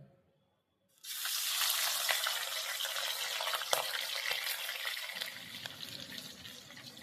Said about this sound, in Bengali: তেলটা গরম হয়ে গেছে এবার আমি চিংড়ি মাছগুলো দিয়ে দিচ্ছি ভাজবার জন্য